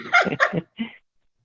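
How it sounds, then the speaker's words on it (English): A dog close by lets out two or three quick, loud barks in a row, then the room falls silent. "Hold on, I gotta go let my doggy in."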